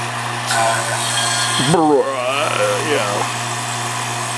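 A refrigerant recovery pump hums steadily while pulling R12 freon from a Jeep XJ air conditioning system, a constant low drone under a man's speech, with a brief hiss as it starts.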